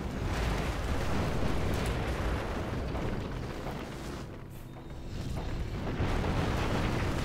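Artillery bombardment in the Axis & Allies (2004) video game, a continuous roar of rumbling explosions and bursts, loud and dense throughout, easing slightly midway before swelling again.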